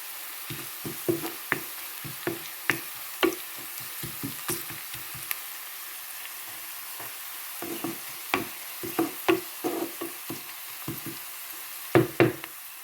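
Onions with curry leaves and a dried chilli sauté in oil for a beetroot fry curry, under a low sizzle, with repeated sharp knocks and scrapes of a spoon stirring against the pan, close and irregular.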